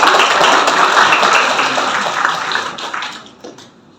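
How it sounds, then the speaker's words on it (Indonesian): An audience at a meet-and-greet after a film screening claps loudly at first, the dense applause holding steady before thinning and fading out toward the end. "Tepuk tangan buat"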